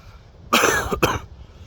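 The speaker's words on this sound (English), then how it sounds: "Still have a bit of a cough, as you can tell." Two quick coughs from one person, close and fairly loud, the second following just after the first, with quiet room tone before and after.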